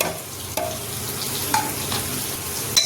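Sugar and garam masala are stirred into a pan of cooked kanda vegetable; a steady sizzle hisses throughout, broken by a few soft scrapes of the spoon and no voices.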